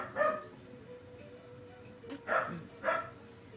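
A small dachshund barks a few times, sharp yaps spaced apart, fairly close in a quiet room.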